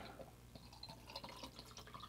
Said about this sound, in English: So we're going to take some of the distilled water Pour it into the top of the pump here.